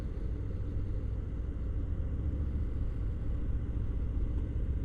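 Harley-Davidson Low Rider S motorcycle cruising in third gear at about 30 mph, a steady low engine rumble with wind noise, constant and close, no voices.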